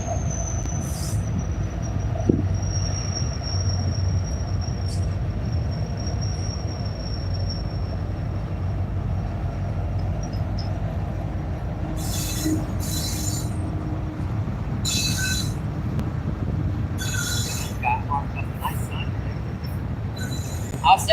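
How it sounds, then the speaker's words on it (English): A train passes near a riverbank fishing spot, a steady loud low rumble of wheels and cars with occasional high metallic squeals riding on top for the whole stretch. "Sorry about the train, folks."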